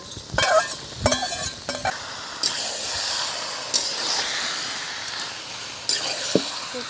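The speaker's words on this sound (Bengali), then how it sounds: "ইলিশ মাছটা দিয়ে দিচ্ছি এবারে কচু শাকের মধ্যে।" Hilsa fish pieces dropped into ghee with taro leaves crackle and sizzle in a pan, with a few sharp bursts of hissing followed by a steady frying hiss and occasional stirring clatters, no voices.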